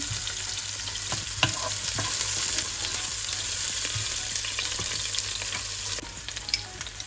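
Long-sliced onion fries in a pan for chicken biryani, a soft, even sizzle underneath scattered clicks and scrapes of stirring, fairly quiet and close, without any talking.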